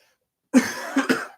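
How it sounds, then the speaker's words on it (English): A single close, harsh cough followed by a couple of quicker rough coughs, loud against silence. "I'm sorry if I'm coughing"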